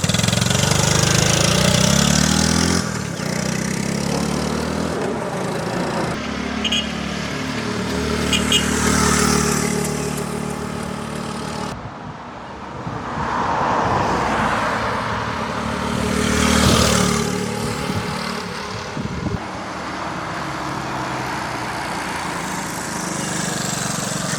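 A 1975 Honda ST90 motorcycle's small engine runs close by, a steady putter with blips of throttle rising and falling over about twenty seconds, loud and alone without talk.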